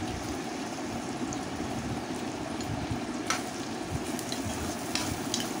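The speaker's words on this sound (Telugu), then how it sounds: "ఇప్పుడు ఉల్లిపాయలు, పచ్చిమిరకాయలు బాగా ఫ్రై అయ్యే విధంగా అండి మనం గరిటెతో కలుపుకోవాల్సి ఉంటుంది" Onions and green chillies fry in a pan with a steady, close sizzle while a ladle stirs them, adding occasional soft scrapes, and no one speaks.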